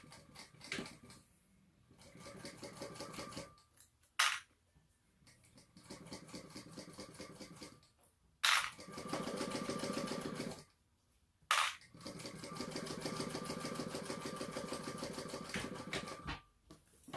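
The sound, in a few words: sewing machine sewing a seam on a purse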